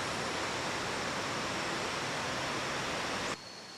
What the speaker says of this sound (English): I'm gonna find a spot by the river because I just love the sound of water.